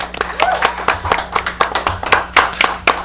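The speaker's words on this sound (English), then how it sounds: "Okay, a round of applause for El Monte." Audience applause for El Monte at a live talk-show taping, a crowd clapping with sharp, dense hand claps over roughly three seconds, loud and close, with voices murmuring underneath.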